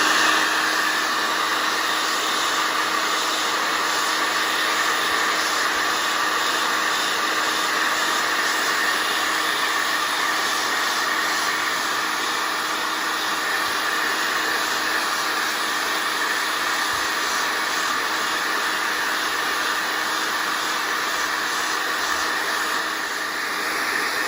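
A hair dryer blows steadily to dry clear glue on a replacement badge on the grille of a Rover P4 80, a constant loud whooshing whine held without a break, close to the listener and with no voices.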